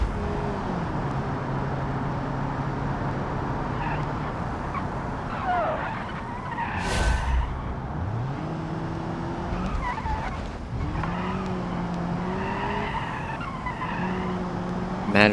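Car in BeamNG sliding and skidding sideways across grass lawns, a steady rough engine roar with tire scrub and squealing swells, loud and continuous throughout.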